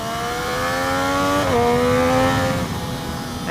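Triumph Daytona 675R motorcycle engine running around 4,500 RPM in third gear, a steady close droning hum with a brief dip and waver partway through, as if stumbling.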